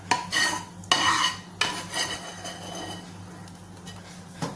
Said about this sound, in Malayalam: എന്നിട്ട് ഒന്നും കൂടെ നല്ലതുപോലെ ഒന്ന് മിക്സാക്കാം